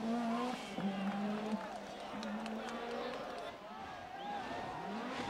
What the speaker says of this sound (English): Toivonen, Allen and Biasion lined up in the Lancia Delta S4s to run the gauntlet of thousands